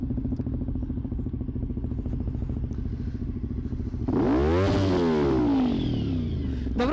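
A Honda VFR 750 motorcycle ticks over at a steady, rapid idle for a few seconds, then a loud rev rises and falls close by before settling back.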